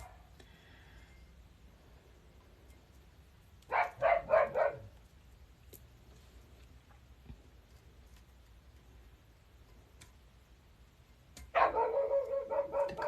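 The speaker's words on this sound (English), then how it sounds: "I don't know why my dog's going crazy" A dog barks in two loud bursts of rapid, excited barking indoors during a livestream, with a quiet stretch between them and the second burst running to the end.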